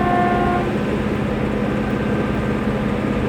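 Inside a moving train between Wilmslow and Mobberley: a constant low rumble of wheels and carriage noise, with a brief tonal hum or horn-like note at the start.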